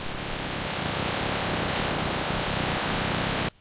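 Water washing banana stems inside a factory washing machine, a dense steady rush of spray and churning water that holds at constant loudness before cutting off abruptly near the end.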